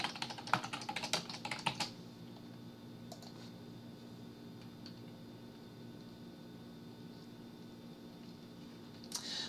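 A password typed on a Mac computer keyboard: a quick run of close, crisp keystrokes lasting about two seconds, followed by a quiet room hum with one faint tap near the end.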